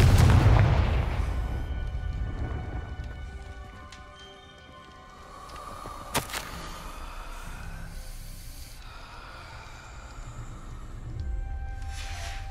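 Confringo spell explosion in the Hogwarts Legacy video game: a heavy booming blast at the start that rumbles away, followed by a sharp crack midway and lingering game ambience, with no talking.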